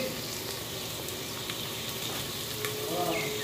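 Onion and garlic sautéing in a pan, a continuous close sizzle with a few faint clinks of stirring, and no talk.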